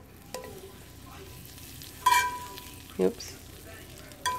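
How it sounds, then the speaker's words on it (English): Butter melts in a skillet ahead of frying chimichangas, giving a faint sizzle with a few sharp clinks and scrapes from the pan, and a short spoken exclamation. "So there's my skillet. Gonna add butter."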